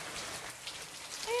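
Rain falling just outside a wide-open door, a soft continuous hiss with light drop spatter, growing slightly louder at the end where a brief whistle-like tone appears.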